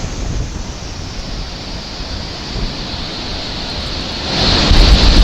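Torrential rain sending floodwater rushing over bridges, a dense, steady roar of churning water that swells louder near the end, with no voices.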